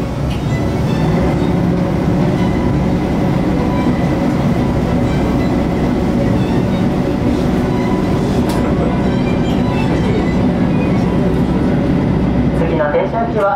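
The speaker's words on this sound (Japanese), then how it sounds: "列車が動きます。" A sightseeing train rumbles and clatters steadily along the rails between Minamata and Shin-Minamata stations, loud and close, with a continuous roar building as it gets underway.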